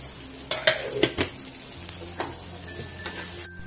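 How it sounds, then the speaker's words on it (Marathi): Onion frying in a little oil for akkha masoor masala, crackling and sizzling closely with a few sharp stirring clinks near the start, then settling into a softer steady sizzle. "कांदा भाजण्यासाठी तेल घालायचं थोडंसं"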